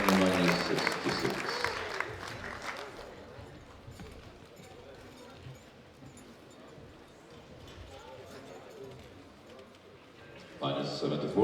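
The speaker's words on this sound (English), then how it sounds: "Round of applause to the young women minus 66." An audience applauds at the 2017 European Classic Powerlifting Championships, a short burst of distant crowd clapping at the start that fades into quiet hall ambience while an announcer speaks.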